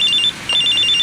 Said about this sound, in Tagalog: Nagre-ring ang cellphone ko.